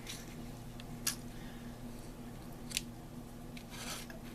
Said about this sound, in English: I'm probably going to cut it up and do